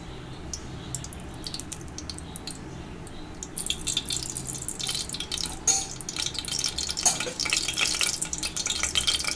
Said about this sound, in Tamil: சன்ஃப்ளவர் ஆயில் ஊற்றிக்கோங்க.